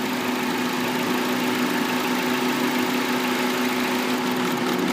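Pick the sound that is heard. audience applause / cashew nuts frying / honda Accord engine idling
honda Accord engine idling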